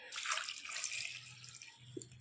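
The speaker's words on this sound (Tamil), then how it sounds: "தண்ணி ஊற்றி" Water poured into a pot of tomato, yellow pumpkin and chilli powder for pumpkin sambar, a close, bright splashing pour that runs for about two seconds and then trails off.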